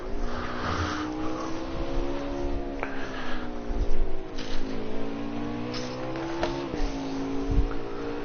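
Number 4 DSR Chevrolet race car heard from inside the cockpit on a final lap, its engine a steady loud drone with shifting pitch, brief lifts and gear changes as it works through right-hand corners.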